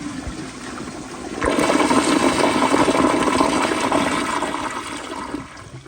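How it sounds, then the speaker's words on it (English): A 1994 Kohler Wellworth Lite toilet on a mid-level tank flushes close up, a quiet lead-in giving way to a loud, steady rush and gurgle of water that slowly tapers near the end. "I'll do an extra close-up flush here"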